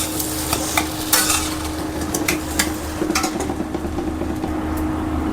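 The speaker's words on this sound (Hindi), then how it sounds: "इसको मिक्स कर देते हैं।" Potatoes and browned onions being stirred in a pan, a steady close scraping and clinking of the spoon over soft frying sizzle, with a few sharper utensil knocks.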